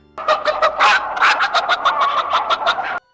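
A man imitates a chicken, squawking and clucking in a rapid burst of about a dozen sharp, loud, close calls. Each call is short and bright, the rhythm is slightly uneven, and the sound runs for nearly three seconds before stopping abruptly.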